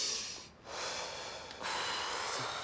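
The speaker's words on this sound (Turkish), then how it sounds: "Şimdi derin bir nefes alalım hep beraber." A group of people draw a deep breath together, heard as a long, airy rush of breathing that pauses briefly and then swells again, close and steady.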